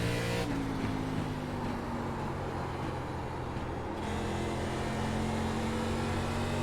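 An ARCA Menards Series race car in iRacing at Richmond drones steadily at high revs, its engine note holding and shifting slightly as it runs through a corner, loud and continuous with no talk.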